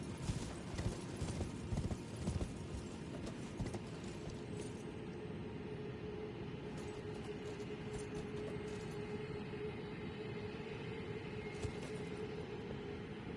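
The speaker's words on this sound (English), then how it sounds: "Thank you for being such a good horse, Torrent." Torrent, the spectral horse mount in the video game Elden Ring, gallops with a steady, continuous rhythm of hoofbeats under faint mechanical game ambience, quiet throughout and with no talking.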